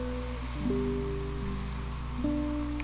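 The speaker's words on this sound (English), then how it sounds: "The rain had gotten even more intense, to the point where Osawa could hear it in his study." Game rain effect from 428 Shibuya Scramble, a steady soft hiss of rainfall beneath sustained tonal music, continuous and moderately quiet with no voices.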